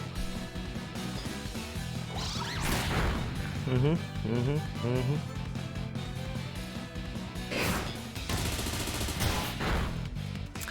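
A Bullet Punch attack landing in a Pokémon video game battle: a couple of sharp, crashing impact bursts mixed with game music and effects, heard beneath continuous commentary.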